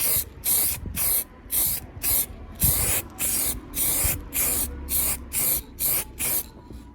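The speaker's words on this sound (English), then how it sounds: "Changed my nozzle, and let's just see if that will do us a bit better." A spray nozzle applies paint to a Honda CB125F part in about a dozen short, sharp bursts of hiss, each roughly half a second long and evenly spaced, close to the mic with nothing else over them.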